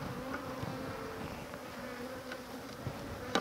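Bees buzzing around a top bar hive catcher box, a dense outdoor hum of many insects droning steadily at close to moderate distance with no speech.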